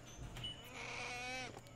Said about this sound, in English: There's my goat.